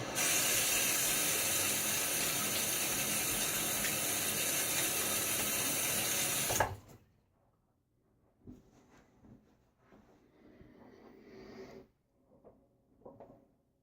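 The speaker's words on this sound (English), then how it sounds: "And now I'm going to wet my face." Water from a running tap hisses and splashes steadily, loud and close, as a man wets his face before a wet shave; it cuts off abruptly, leaving faint drips and small handling noises.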